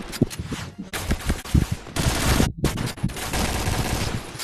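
Rapid automatic gunfire in a shooting video game. Dense bursts crackle loud and close, broken by a brief pause midway.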